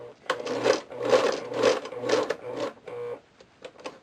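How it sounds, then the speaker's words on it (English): Sewing machine stitching cased elastic into a cloth diaper, running in several short bursts of rapid needle chatter separated by brief pauses, with faint clicks at the end. "Needle down, pressure foot up, turn, needle down, continue sewing"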